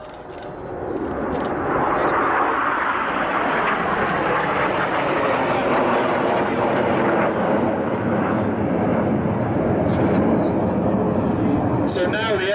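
Fixed-wing jets flying in formation at the 2009 Roskilde air show in Denmark, a loud sustained engine roar that swells in within the first two seconds and holds steady overhead.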